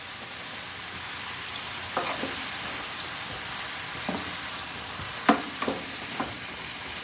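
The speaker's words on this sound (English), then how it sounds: "We give it a stir and mix up all the seasonings in there." Pork guisado with seasonings stirred in a pan: a steady soft sizzle with a few scattered scraping clicks of the spoon, close and moderate, with no voices.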